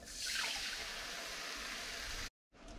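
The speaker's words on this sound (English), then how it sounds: "Add 1 cup of water." A cup of water is poured into a pan of curry ingredients, a steady close splashing rush that runs about two seconds, stops abruptly, then briefly resumes.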